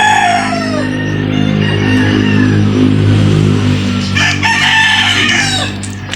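Chickens in a backyard coop cluck and crow loudly and close by, overlapping calls with a rooster's crow standing out, and no talk over them.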